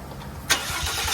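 A Ford F150 2.7 twin turbo EcoBoost engine cranks briefly and catches, settling into a steady idle, heard fairly quietly with no voices.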